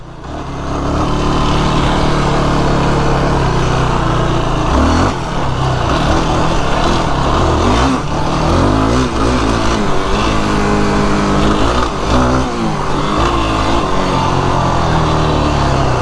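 A 2025 Yamaha YFZ 450R ATV engine cruising on light throttle, loud and close with a steady mid-pitched drone that rises and dips slightly as the rider eases the gas.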